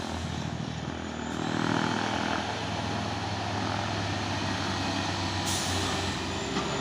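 An iso tank trailer truck, a 6x4, drives on an open road while a second truck pulls out to overtake it. A loud, steady diesel engine roar with road rumble holds throughout, close by, with no voices.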